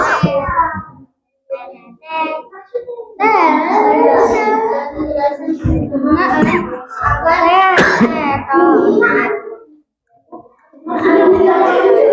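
A person coughs and clears their throat repeatedly, close and loud, with harsh rough bursts broken by short pauses.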